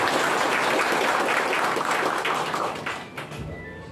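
An audience at a public event in Dharan applauds to welcome the Indian ambassador: a dense burst of many hands clapping that starts full and gradually thins and fades toward the end, with a few scattered claps left.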